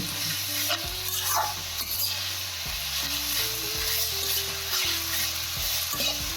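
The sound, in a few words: sautéing grated bottle gourd for halwa, stirring in pan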